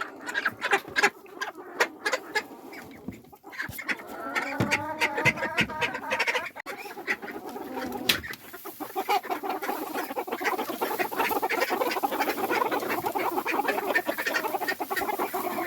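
Ducks and chickens sheltering in a shed during a winter storm give off scattered quacks, clucks and soft chattering calls, up close, with pattering and rustling movement throughout.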